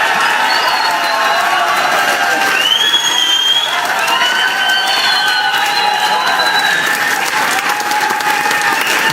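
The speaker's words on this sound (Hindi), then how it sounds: "और उनके लिए ताली बजाना है तो दिल से बजा लो" An audience at a motivational seminar applauds and cheers loudly and continuously, with dense clapping and scattered whoops and shouts throughout.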